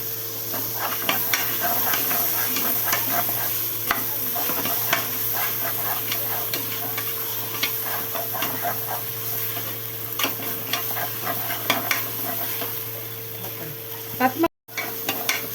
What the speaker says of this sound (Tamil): புதினா இலைகள் கொஞ்சம் எண்ணெயிலே போட்டிங்கன்னா நல்லா வதங்கும்